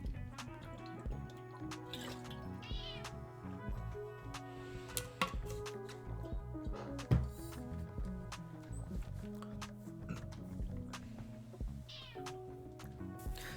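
A pet cat named Anna meows a few times in a quiet room, the calls faint and scattered across a steady low hum, with a brief louder burst midway.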